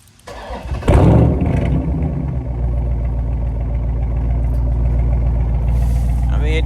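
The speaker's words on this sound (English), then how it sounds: "we're gonna do a quick little remote start" A Chrysler 392 V8 cranks and fires by remote start with a sharp loud catch, then settles into a steady, throbbing, deep idle that holds close and strong to the end.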